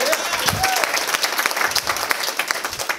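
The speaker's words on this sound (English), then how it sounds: "Give a round of applause." An audience at a GanoLife business opportunity meeting breaks into a lively round of applause, with crisp, uneven claps from a fairly close crowd and a brief voice or shout near the start.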